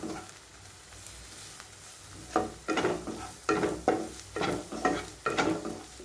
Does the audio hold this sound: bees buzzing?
no